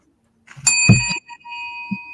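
A single bell rings out clearly with a bright metallic ding, then its tone lingers and slowly fades, with a brief low thump at the end.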